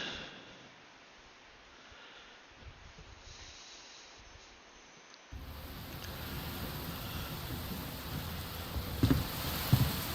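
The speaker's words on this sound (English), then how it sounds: "Oh, it's raining up here." Steady rain hiss in a video game, falling over a treetop settlement in the crown of a tree, starting softer and then swelling into a denser, louder downpour with a few sharper knocks near the end.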